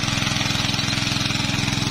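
A 3-inch engine-driven water pump runs steadily close by, drawing irrigation water through a filtered intake box, its motor throbbing in a fast, even pulse with a constant chug and no pauses throughout.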